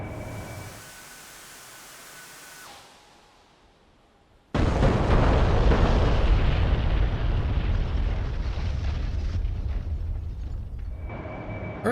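Four JDAM bombs from a Harrier in a flight simulator game strike their targets as a sudden loud, sustained rumbling blast that erupts after a quiet stretch and keeps roaring to the end.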